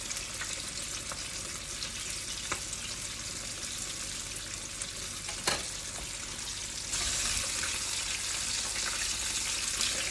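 Chicken wings frying in hot oil, a dense, steady sizzle and crackle close up, with occasional sharp pops and a slight rise in intensity toward the end.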